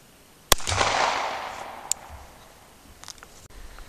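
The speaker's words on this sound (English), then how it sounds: "I'll be shooting Blazer 115 grain full metal jacket because that's what I got the most of" A Smith & Wesson 1911 Pro Series 9mm pistol fires Blazer 115 grain full metal jacket rounds at an outdoor 25-yard range: one sharp, loud report with a decaying echo, then a fainter crack and distant pops.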